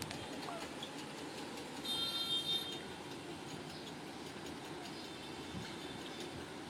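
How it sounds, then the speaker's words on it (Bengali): A toy train pulls out of Coonoor toward Ooty, its low rolling rumble and faint rail clatter running steadily throughout, with a brief high squeal near the start. "ট্রেন ছাড়লো।"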